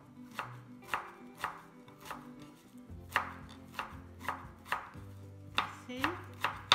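A knife chops parsley on a cutting board in a steady rhythm of about a dozen crisp, close thuds, each clearly separated, with no talking.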